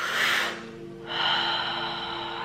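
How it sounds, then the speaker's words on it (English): A single deep breath drawn in and let out during a calm self-help talk on controlling negative thoughts, a long airy inhale followed by a steady exhale, close and fairly loud with no talking over it. "first thing we do is take a deep breath"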